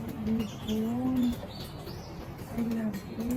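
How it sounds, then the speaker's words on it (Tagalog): Many birds call at once: low, repeated pigeon- or dove-like coos come in short bursts over a bed of fainter chirps and twittering, moderately close and outdoors. "Dami ibon."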